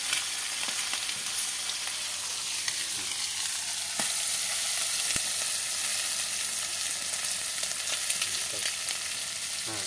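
Fish frying in hot oil in a wok gives a steady, loud sizzle that crackles continuously for the whole stretch, with occasional sharper pops and faint scrapes of stirring.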